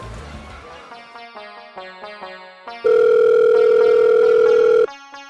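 A telephone rings in a Sylheti drama scene, first a run of short warbling electronic ring tones, then one long loud sustained tone lasting about two seconds before the ringing resumes briefly.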